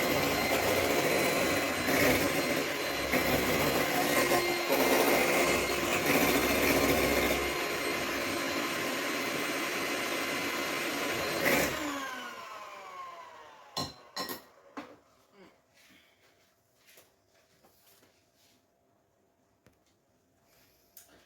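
Electric hand mixer beating a keto cheesecake mixture in a copper bowl, a loud steady whirring drone that stops abruptly, followed by a few faint clinks and knocks.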